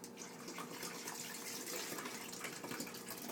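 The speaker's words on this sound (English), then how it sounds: "pour the water in the back of the coffee pot" Water poured steadily into the back reservoir of a coffee pot, a continuous splashing trickle heard close and alone.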